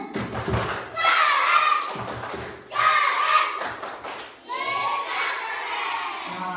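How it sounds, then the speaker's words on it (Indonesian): A group of fifth-grade children in a classroom clapping a rhythmic class cheer in quick bursts, three rounds of claps with shouting voices mixed in, loud and close. "Kita tepuk keren untuk Dirga supaya semangat ya."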